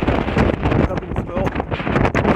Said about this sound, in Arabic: اذا كيف ما كتشوفوا رياح قويه هنا